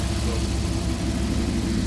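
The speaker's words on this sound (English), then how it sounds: "So engine's burbling away and we're just checking everything's over." An Audi RS4 van idles while warming up, giving a steady low rumbling burble that is loud and continuous, with a voice talking over it.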